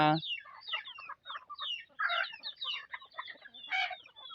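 Free-ranging native backyard chickens cluck in a steady, chattering series, several birds close by with overlapping calls and no talk over them.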